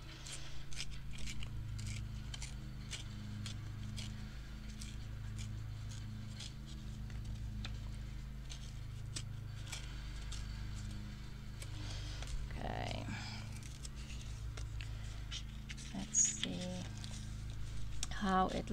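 Paper torn by hand while shaping a faux front envelope for a craft project: small, scattered ripping and crinkling sounds over a steady low hum, with a few sharper tears toward the end.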